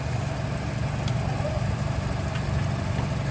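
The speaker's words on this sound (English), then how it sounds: "there's your rotary engine." The rotary engine of a 1980 Mazda RX-7 idles steadily with a low, even rumble and a faint mechanical whir, holding constant throughout.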